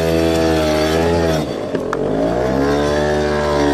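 A small motorbike engine stuck in deep sand, revving hard and steadily at close range, with a brief dip in pitch midway before climbing again.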